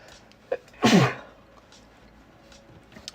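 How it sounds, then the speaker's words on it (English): A single sharp sneeze bursts out up close, brief and loud, against a quiet room with a faint click just before. "I gotta sneeze again."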